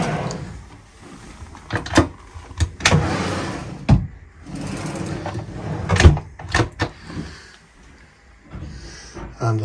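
Drawers under the foot of the bed on a Leopard 48 catamaran are pulled open and pushed shut, giving a series of sliding scrapes and sharp wooden knocks at irregular intervals, close and fairly loud.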